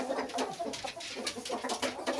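Fowl sounds from a rooster kept for breeding, with a run of short clucks and calls in a steady rhythm at moderate distance, without any speech.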